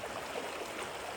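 River rapids on the Verde River in Arizona, a steady broadband rush of churning water, moderately faint and continuous with no voices.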